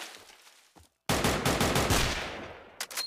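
Loud rapid gunfire from a video game, starting with a few scattered shots, a brief silence, then a sustained automatic burst for about two seconds, then a few more quick shots.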